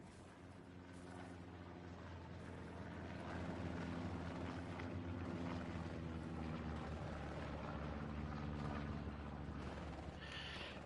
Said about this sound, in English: Enemy recon plane just went overhead.